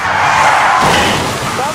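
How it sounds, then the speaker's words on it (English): A fleeing suspect's car skids out of control on Kennesaw Avenue during a police pursuit, giving a loud, sustained roar of sliding tires under a narrating voice. "The suspect skids out of control and smashes into a guardrail."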